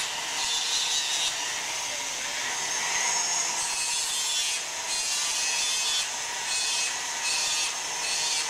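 A spur gear being machined to cut a taper, giving a steady, continuous hiss of cutting and scraping that runs unbroken and fairly loud throughout, with no voices.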